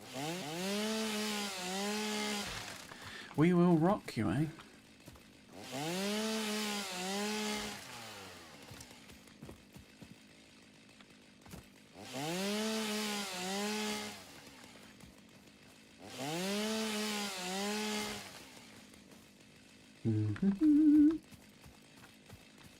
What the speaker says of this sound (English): Let's get the old chainsaw going.